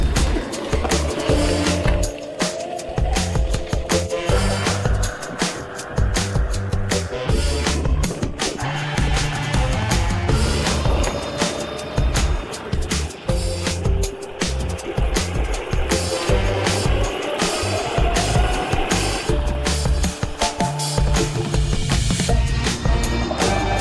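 A repaired go-kart drives along, its small engine buzzing continuously alongside a rough rattling rumble that shifts in pitch as speed changes, loud and close throughout.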